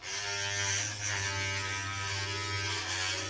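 Electric hair clippers with a number 3 guard buzz loudly and steadily up close while cutting hair, a continuous droning hum with slight fluctuations as the blades move through.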